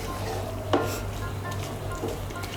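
Mixed dal being stirred together with spices in a pan for a tarka, a soft steady scraping and faint sizzle with one brief louder clink of the spoon near the start.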